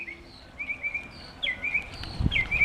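A nesting bird sings outdoors at moderate distance, giving repeated high warbling phrases over a soft background hiss, with a brief low thump near the end.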